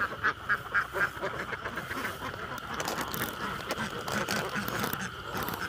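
Ducks quacking in a field on a Vietnamese duck farm, a few distinct quacks near the start, then a steady blended chatter of the flock with rustling and mechanical clatter, no talk.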